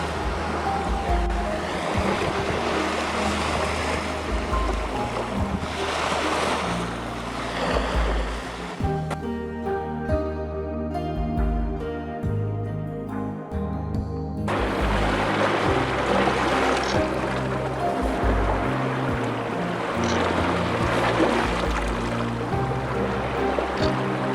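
Steady roar of ocean surf breaking on a Red Sea beach, continuous and full, with wind rumble and no voices.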